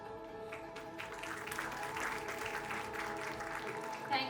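Sustained applause from an audience at an academic inauguration and scientific session, a steady wash of clapping that holds level throughout the few seconds.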